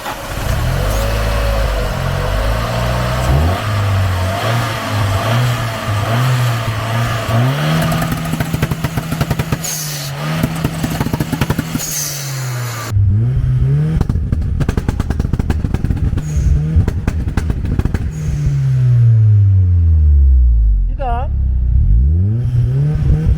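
Turbocharged Opel Calibra Turbo 4x4 from the 1990s, tuned to around 350–400 hp, revving loudly and continuously up and down with rising and falling pitch sweeps, with speech heard over the engine.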